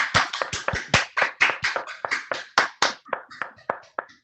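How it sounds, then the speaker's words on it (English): Participants in an online talk clap with their microphones on, sharp close claps in an irregular overlapping rhythm, several hands slightly out of sync, with no talking. "so just so we can get some claps."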